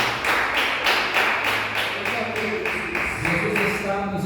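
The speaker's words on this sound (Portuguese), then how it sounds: "Palmas para Jesus, meus irmãos." A church congregation claps for Jesus during a Portuguese-language sermon, with rhythmic, evenly spaced group claps repeating steadily about twice per second, fairly close and loud, over a low background hum.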